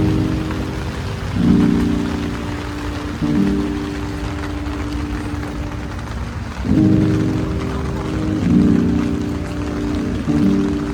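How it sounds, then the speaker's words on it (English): Heavy rain pours onto the tents of an outdoor pop-up market as a loud, continuous hiss, with a steady low hum rising and falling underneath. "So it started pouring rain"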